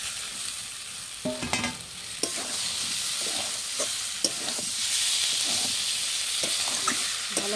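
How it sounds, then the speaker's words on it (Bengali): Fried potatoes tossed into sizzling ground spice paste for an egg curry, a continuous loud frying hiss broken by repeated clattering knocks and scrapes of a stirring spoon against the pan. "এবার দিয়ে দিচ্ছি ভেজে রাখা আলু"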